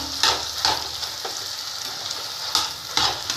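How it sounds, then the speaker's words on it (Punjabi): Potato filling sizzles steadily in a frying pan as it is stirred, with a continuous hiss broken by several sharp scraping strokes of the spoon against the pan, close up and with no voices. "ਹੁਣ ਆਪਾਂ ਆਲੂ ਦੀ ਪਿੱਠੀ ਪਾਤੀ ਤੇ ਇਸ ਤਰ੍ਹਾਂ ਇਹਨੂੰ ਆਪਾਂ ਹੁਣ ਰਲਾ ਦਾਂਗੇ"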